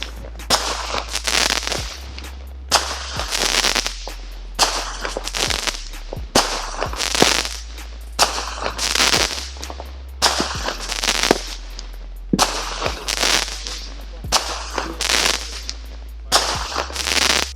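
Patriot Be the King firework cake going off at a July 4th show, a long string of loud sharp bursts and crackling blasts fired in quick succession, each exploding burst followed by a short gap.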